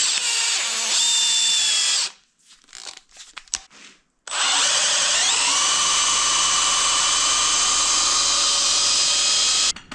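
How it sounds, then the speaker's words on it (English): An electric drill spins the alternator pulley on a 1987 Volvo BM L120 wheel loader, giving a loud, steady high-pitched whine that drops out briefly with a few clicks and scrapes, then winds back up and holds until cutting off. "Use an electric drill on the alternator pulley to spin it clockwise at"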